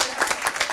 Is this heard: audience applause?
yes